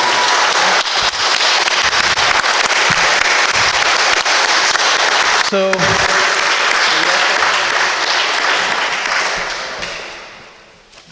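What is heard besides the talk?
audience round of applause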